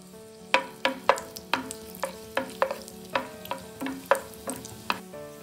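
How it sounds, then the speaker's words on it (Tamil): Cashews and raisins fry in hot ghee in a pan while a spoon scrapes through them in a quick, regular rhythm of about a dozen strokes over a quiet sizzle. "இது சூடானோன்னே இந்த முந்திரி திராட்சையெல்லாம் வறுத்து எடுத்துக்கலாம்."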